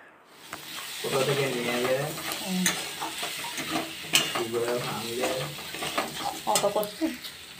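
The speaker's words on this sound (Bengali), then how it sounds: "আলু আর পেঁয়াজ প্রথমে আমি খুব ভালো করে ভেজে নিয়েছি, তারপর দিয়ে দিচ্ছি রসুন আদা টমেটো" Potatoes and onions already fried in a pan, now joined by garlic, ginger and tomato, give a steady sizzle with stirring and scraping throughout, while a voice-like murmur runs underneath.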